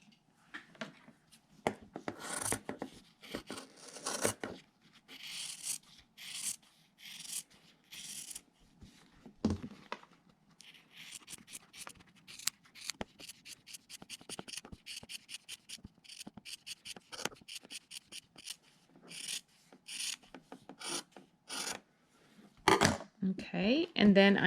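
Scissors trimming and cutting quilt fabric with interfacing, a long run of soft, close snips and rustles in irregular bursts, some quick and rapid, with occasional handling noise.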